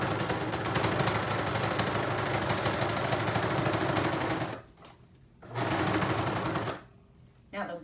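A sewing machine stitches along the edges of a pillow cover, humming in a loud, rapid continuous run, then stopping, starting again briefly and stopping once more with a short final burst.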